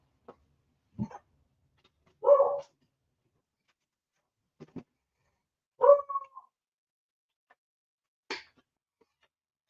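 Dog barking indoors, a few sporadic single barks and yips spaced seconds apart, moderately close in an otherwise quiet room.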